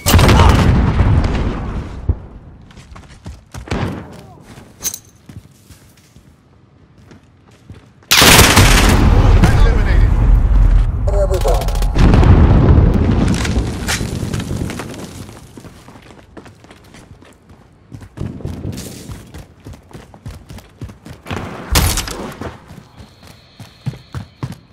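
A grenade blast and gunfire in Call of Duty: Modern Warfare: a loud, sustained roaring explosion followed by bursts and scattered sharp shots, with voices talking around the fighting.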